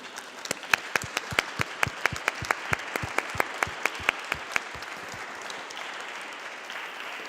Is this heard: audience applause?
yes